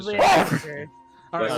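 One sharp human sneeze, loud and close, followed by people talking.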